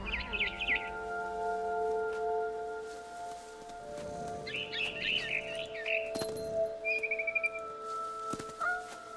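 Small clusters of high, quick bird chirps from a video game come in a few separate bursts over a low steady hum, with soft rustling in between.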